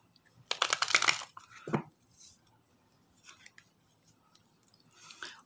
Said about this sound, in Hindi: कार्ड्स को अच्छे तरीके से हम शफल कर लेंगे